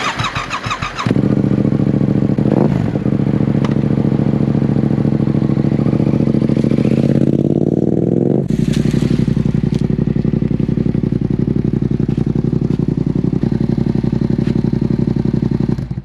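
A 2017 Yamaha FZ-07 motorcycle starts and runs close by, its engine climbing in pitch as it rolls forward, then settling into a loud, steady idle with a throbbing rumble.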